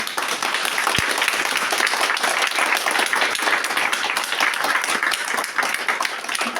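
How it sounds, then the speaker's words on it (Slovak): Warm, dense audience applause at a school performance where children played for parents and grandparents, a steady unbroken wash of many hands clapping throughout. "Patrí vám obrovský potlesk."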